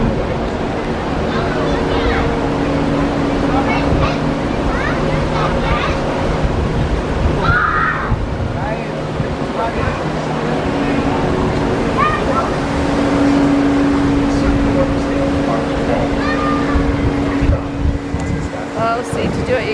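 Water rushes continuously across a FlowRider surf simulator on the sports deck of the Royal Caribbean cruise ship Explorer of the Seas, a steady wash under a mechanical hum with people talking over it.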